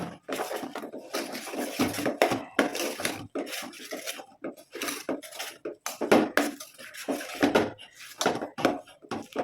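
A spoon mixes sugar and grated coconut in a pot for milk kozhukkatta, with repeated scraping and clanking strokes in an uneven rhythm, close and fairly loud, with no talking.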